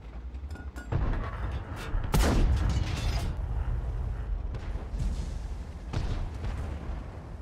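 Tank cannons fire in a World of Tanks match, several deep booming shots with heavy low rumble over a continuous engine drone, loud and close.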